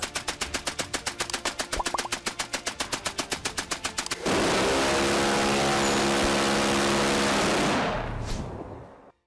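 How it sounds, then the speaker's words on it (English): Machine gun fire sound effect evoking World War I trench warfare, opening with a rapid, evenly spaced string of loud shots, then turning into a dense continuous roar that fades out. "During the brutal trench warfare of World War I, untold thousands fell to machine gun fire."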